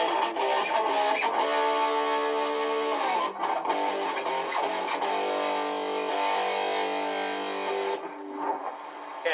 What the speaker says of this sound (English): My distortion pedal, which is a Widowmaker pedal over here, and it does add some extra boost.